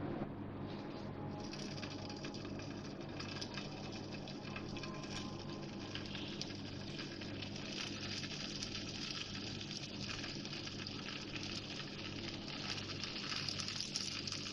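Kebabs fry in hot oil with a continuous, dense sizzle and crackle, close and steady throughout, with no voices over it.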